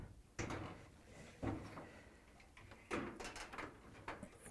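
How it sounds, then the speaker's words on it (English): A dryer's front panel is fitted onto its bottom hinges, giving a few separate metallic clunks and knocks, each a short thud with a brief rattle, spaced out and heard alone. "I'm going to bring that front panel in and place it onto the"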